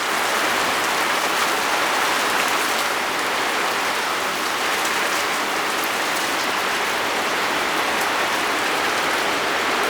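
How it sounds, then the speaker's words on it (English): Steady, heavy rain pours down during a severe thunderstorm with damaging winds in southeastern Pennsylvania, a dense continuous hiss at constant loudness with no talk. "here comes the rain"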